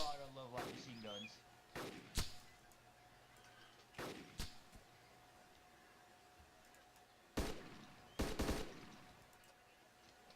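Scattered short gunshot bursts from a light machine gun in the survival video game DayZ, separated by pauses, with a voice talking at the start.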